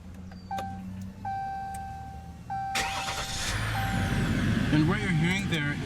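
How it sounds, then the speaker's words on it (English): A 2016 Ram 1500 Laramie EcoDiesel with a 3.0-litre diesel V6 starts by push button after a few electronic chimes, then settles into a steady diesel idle while a person speaks over it. "what you're hearing there is a 3-liter diesel V6 engine"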